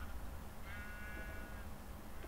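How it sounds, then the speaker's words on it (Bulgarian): Blocky sheep in Minecraft let out one drawn-out, wavering bleat over a steady low background hum, clear and mid-distance. "Тук има 50 овце, брат. Навсякъде овци."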